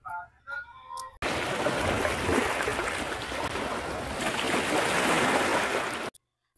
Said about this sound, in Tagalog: maka-relax gyud lalo na sa mga hampas ng alon tan-awan ninyo guys paminawag gyud